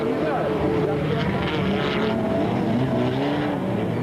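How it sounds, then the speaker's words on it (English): Super Trucks racing around a circuit during a 1998 Super Series event, their engines droning steadily and loudly throughout with a dense, continuous roar and shifting pitch, mixed with crowd or commentary noise. "Coetzee, van der Merwe and the other two Super Trucks set off on the chase."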